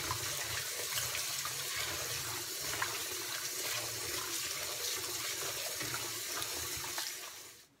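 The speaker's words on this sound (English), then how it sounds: "And then I can go ahead and just let this lettuce get clean right inside of this large bowl." Water sloshes and splashes steadily as lettuce is swished around by hand in a large bowl, a continuous close wet churning that fades out at the end.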